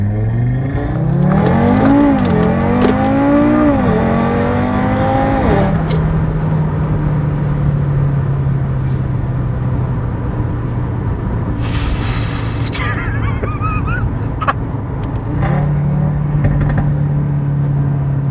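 A 420+ kW Audi RS3 accelerating hard, its engine rising through repeated climbing revs and gear shifts, then a long steady drone with a sharp hissing burst midway, loud and close throughout.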